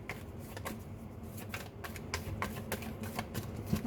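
Tarot cards being shuffled at close range, a quiet, steady run of soft flicks and riffles with light taps, with no voice over it.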